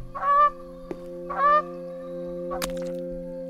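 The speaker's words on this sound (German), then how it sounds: "Ist das jetzt tatsächlich eine Ente" Honking, quacking waterfowl calls in the video game The Forest, two short harsh bursts followed by a later sharp sound over a steady low game hum, with no voices.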